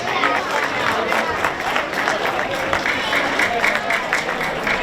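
A crowd at a cycling gymkhana podium ceremony claps steadily in dense applause, close and sustained for several seconds, with a voice speaking over it.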